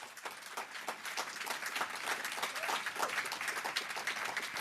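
A conference audience gives a sustained round of applause during a farm-policy session on horticulture and crop insurance. The clapping is dense and even, holding steady at moderate loudness throughout.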